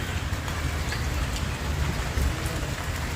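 Rain falling steadily at home during a downpour that is starting to ease, a dense, even patter of drops on surfaces, constant and moderately loud throughout.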